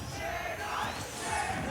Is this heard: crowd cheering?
yes